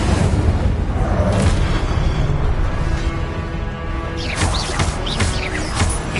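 An Incendio fire spell blast in Hogwarts Legacy on PS5, a heavy booming roar layered over dense, continuous battle noise, with several crackling bursts toward the end.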